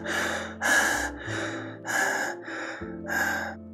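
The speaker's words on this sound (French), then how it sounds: "Et vous allez maintenant respirer comme ceci par la bouche." A person demonstrates choppy mouth breathing, made up of six short, close breaths, quick gasping inhales and puffing exhales in an uneven rhythm, with no talk.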